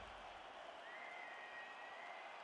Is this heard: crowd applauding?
yes